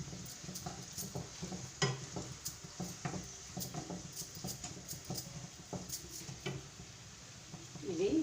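Food frying in a pan while cooking a coconut rice and potato gravy dish, a soft steady sizzle with light crackling and occasional stirring clicks, faint and close, under quiet background talk.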